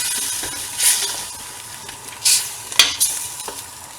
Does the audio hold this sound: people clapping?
no